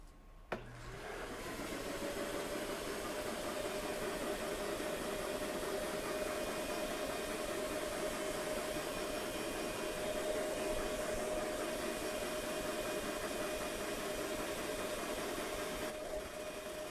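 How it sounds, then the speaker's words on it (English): A DeWALT 12-gallon Stealth Sonic wet dry vacuum switches on with a click and a brief rising whine, then runs at a steady, even whoosh with a faint tone until it shuts off near the end. "once I turn this vacuum on, we'll see the column rise and get to a point and just stay there"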